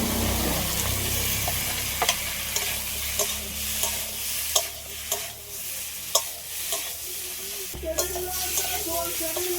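Pre-fried taro and potato sizzle in a pan with tomato and spices under a steady hiss. Sharp, irregular spatula scrapes and clacks sound close by throughout.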